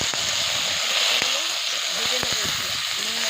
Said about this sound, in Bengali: ভেজে নেবো নুন আর হলুদ দিয়ে।